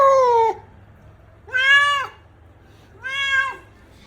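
A male cat meows three times, each call long, rising then falling and clearly separated by short pauses, close and fairly loud in a quiet room.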